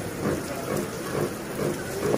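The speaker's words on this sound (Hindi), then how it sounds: "ये देखो इतनी सही बारिश हो रही है यार दिल्ली में" Heavy monsoon rain pours down in Delhi as a dense, steady roar of drops that stays loud and unbroken throughout, with no voices.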